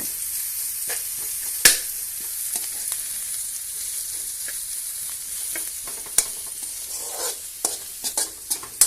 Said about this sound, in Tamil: பிரண்டை கூட போட்டு நல்லா வதக்கிக்குங்க